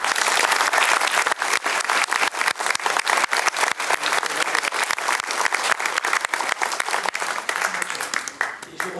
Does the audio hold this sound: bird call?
no